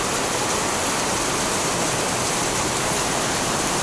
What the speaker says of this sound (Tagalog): Yung tubig. Lumalakas na.